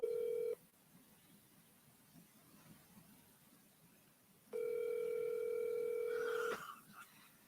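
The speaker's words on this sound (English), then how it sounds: "We're going to see if Kevin picks it up." Telephone ringing tone while a call is placed, with a loud steady tone at the start, several seconds of quiet hiss, then a second long ring that ends in a brief click and noise.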